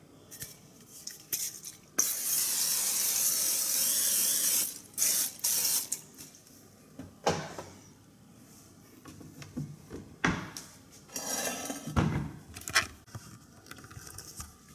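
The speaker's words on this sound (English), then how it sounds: "it says to spray the pan with non-stick spray" A long hissing burst of non-stick cooking spray onto a pan, followed by shorter spurts and light clattering of kitchenware nearby.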